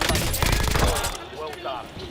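Rapid bursts of automatic gunfire in a shooter video game, loud and close for about a second before fading into quieter trailing shots, with a voice talking over it.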